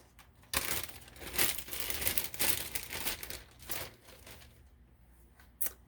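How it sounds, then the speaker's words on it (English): Someone handles a plastic bag for holding meat, producing close, fairly quiet crinkling and rustling that comes in irregular bursts over several seconds. "So I got a plastic bag to put the meat in."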